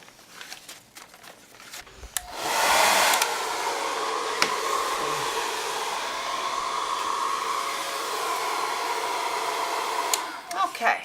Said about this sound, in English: I use my hairdryer. I use it on a low setting.